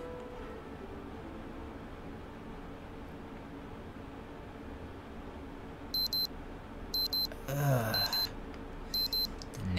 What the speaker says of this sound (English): next day, next to my ear, my cell phone alarm rings